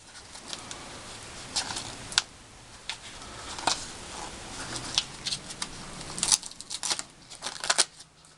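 Taped paper pattern being peeled off scroll-sawn wooden numbers, a series of soft crinkly rips and scratchy patters close up, irregular and fairly quiet.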